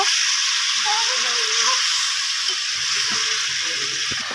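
Spice paste frying in oil with a little water added, for a Bengali rohu fish and potato curry, gives a steady, loud hissing sizzle throughout, with faint voices underneath.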